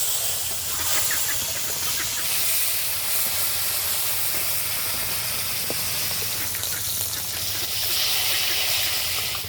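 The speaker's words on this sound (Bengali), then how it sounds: "দিয়ে দিচ্ছি সর্ষের তেল মাছগুলো ভাজার জন্য" Steak-cut pieces of snakehead fish fry in mustard oil in a kadai with a steady, close, hissing sizzle and scattered small pops, continuous and fairly even throughout.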